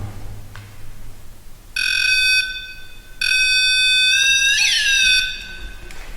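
Paranormal presence detector pod sounds its alarm: two loud bursts of high, steady electronic beeping, the second longer with a warbling chirp near its end, over a quiet room with no talking.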